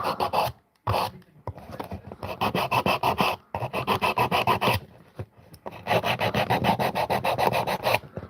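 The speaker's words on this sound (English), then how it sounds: "Just sanding down the spoon that I made." Rhythmic back-and-forth rasping of sandpaper on a handmade wooden spoon, close and loud, in quick repeated strokes with a few short pauses between bursts.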